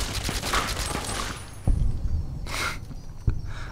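Gunfire in the video game Fallout New Vegas, a burst of rapid shots followed by a few heavy isolated bangs and a couple of sharp crackling bursts, loud and close with no voices.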